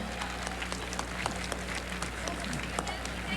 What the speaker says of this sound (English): Everybody here deserves a round of applause for being here